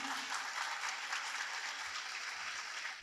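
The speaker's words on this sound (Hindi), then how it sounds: "भरपूर तालियों में इस्तकबाल कीजिए" Sustained audience applause at an Urdu mushaira poetry gathering in Lahore, steady and fairly faint throughout, welcoming a poet to the stage.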